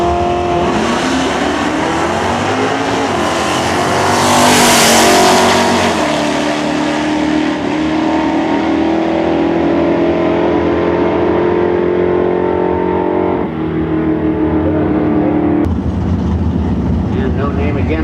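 Drag race cars at a strip meet, among them a 1964 Plymouth, scream off the line one after another. Loud engines rise in pitch through the gears with tire squeal, and an announcer talks over the noise.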